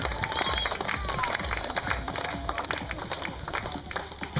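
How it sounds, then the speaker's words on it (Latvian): At an awards ceremony, an audience claps in a busy, mid-level wash of hand claps with scattered sharper slaps and some crowd noise underneath, lasting throughout. "Aplausi Mārtiņām!"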